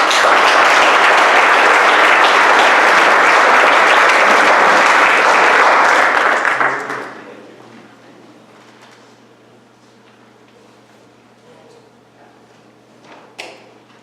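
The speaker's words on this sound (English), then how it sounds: "How about a round of applause for the pastor?" A church presbytery gathering claps loudly and steadily for several seconds, then the applause fades quickly into a quiet room with faint shuffling.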